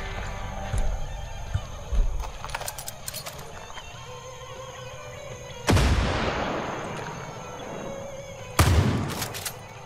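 Gunshots in the video game Far Cry 5: two loud, sharp blasts with ringing decays stand apart over ambient game sounds, along with some fainter, smaller impacts earlier on.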